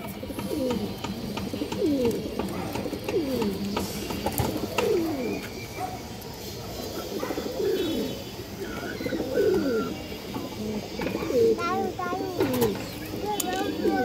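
Domestic pigeons, including a red female, coo repeatedly in a loft, soft throaty rolling calls layered close together over low background noise.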